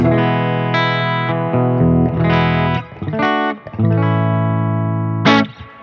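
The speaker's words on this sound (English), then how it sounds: "And right now my clean sound sounds like this." Electric guitar with a clean tone, ringing chords and single notes played alone, with brief pauses and some sustain.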